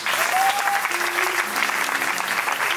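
An audience applauds and acclaims the Lord at a DOXA worship gathering, a dense, steady wash of clapping close and loud for under three seconds, with a few voices calling out over it.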